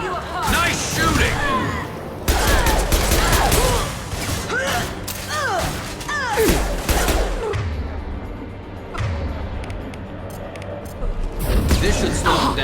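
Bursts of gunfire in the Mass Effect 2 video game, rapid shots and heavy impacts over dense battle effects, with character voices talking over the fighting.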